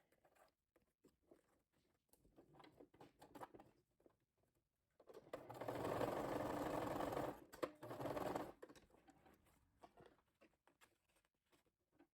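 Sewing machine stitching tabs cut from a fabric sample book, one continuous burst of rapid whirring stitches lasting a few seconds between quiet stretches of faint handling clicks and rustle.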